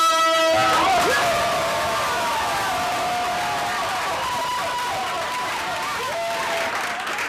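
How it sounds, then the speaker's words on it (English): An open mic crowd applauds and cheers as the next performer comes up, loud continuous clapping with whoops and shouted voices layered over it throughout. "Give a round of applause to the next man coming up to the open mic."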